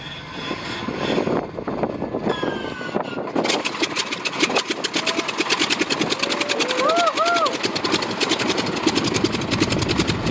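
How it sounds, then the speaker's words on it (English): Boeing P-26 Peashooter radial engine being hand-crank started at an airfield: a whirring crank and flywheel wind-up, then a loud, steady, rapid engine chatter sustained close by, with people talking faintly beneath. "P-26 actually uses a hand crank to start the engine."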